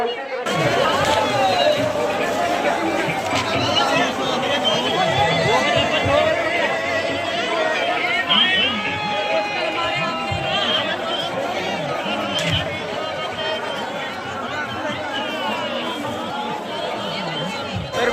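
Dense crowd chatter fills the Pohradevi fair in Maharashtra, a steady close babble of many voices with shuffling and bustle throughout and no pause.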